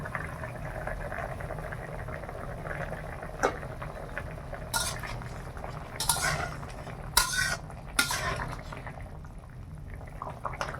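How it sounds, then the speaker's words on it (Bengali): Pot of shukto simmering on a village stove, with a low steady bubbling bed broken by several sharp clinks and scrapes of metal utensils against the pot as the lid comes off, close and moderately loud, with no talking. "5 মিনিট হয়ে গেছে, এবার ঢাকা খুলছি।"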